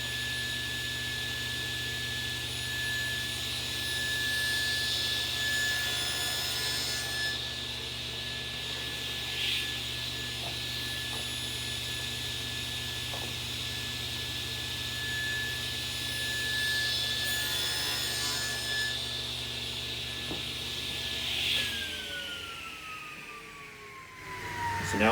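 Table saw with a spline jig cutting slots into the mitered corners of a wooden box, a steady loud motor whine throughout, with the blade spinning down near the end.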